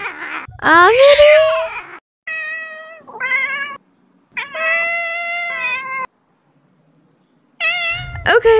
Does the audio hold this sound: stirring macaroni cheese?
no